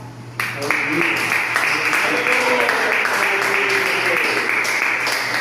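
A church congregation claps together during a sermon, a steady sustained wash of applause that fills the room at moderate loudness with some murmuring voices beneath.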